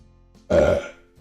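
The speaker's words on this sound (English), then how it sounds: "I got a burp" A short, deep burp erupts abruptly from a near-silent background, loud and close, fading out within half a second.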